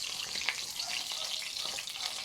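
Mulmol fish frying in hot oil gives a steady, even hiss of sizzling that runs unbroken, with no voices over it.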